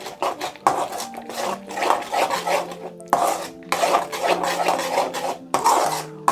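A utensil scrapes and stirs puliyogare rice mixed with spice powder in a pan, steady rhythmic rasping strokes close up with occasional metallic clinks, no talk.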